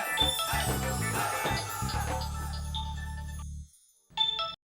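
A telephone ringtone plays as a steady melodic tone over background music, cuts off briefly, then rings again.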